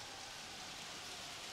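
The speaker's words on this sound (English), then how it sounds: "Whoa, why is it so dark and rainy?" Steady rainfall in New Donk City from the Super Mario Odyssey video game, an even, continuous hiss of rain with no other sounds standing out.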